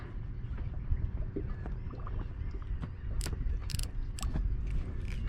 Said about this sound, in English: Might want to tighten my drag up a little bit because that's absolutely loose.